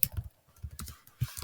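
Quick, uneven keystrokes on a computer keyboard while code is typed into an online editor, close and crisp, with short pauses between bursts and no voices.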